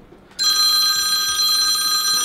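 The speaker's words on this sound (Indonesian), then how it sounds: "Adli Ji, udah telepon nih Ji." A telephone starts ringing abruptly after a short quiet moment, a loud, steady, high-pitched electronic tone that continues unbroken, close and alone.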